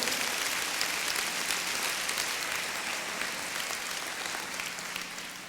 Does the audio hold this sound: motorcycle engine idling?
no